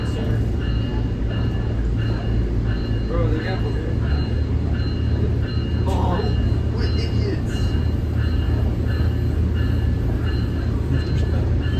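Nippon Sharyo DMU train running northbound toward Sonoma County Airport, a steady loud rumble with faint high squeal from its brakes as it slows, with people talking over it throughout.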